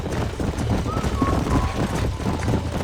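Horses galloping in Red Dead Redemption, a dense continuous drumming of hooves close by with wind noise, no pauses across the short stretch.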